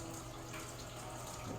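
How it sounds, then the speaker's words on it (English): A kitchen faucet runs on low while chicken is rinsed beneath it, a soft continuous hiss of water with no breaks or talk. "So turn my water on low. And then I rinse my chicken."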